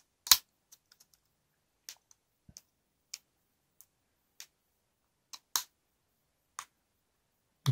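Rubber buttons torn off a car folding key: a sparse series of sharp plastic clicks and snaps, close and fairly quiet, spaced irregularly with silence between.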